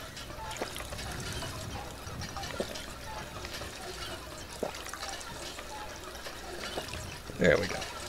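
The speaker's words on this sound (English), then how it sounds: "I can drink from the water pump" Water pouring from a water pump in Fallout 4, a steady trickling splash running for several seconds at moderate level beneath a speaking voice.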